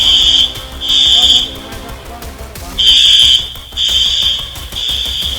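Electronic alarm rings in Thailand after the Myanmar-Thailand earthquake, a loud piercing tone sounding in repeated bursts of about a second with short gaps, over a low rumble of background noise.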